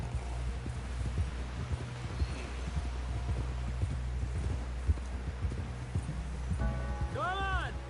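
Horse hooves clip-clopping in the Red Dead Redemption 2 video game, a steady rhythmic trot under low rumbling ambience, with a horse whinny near the end.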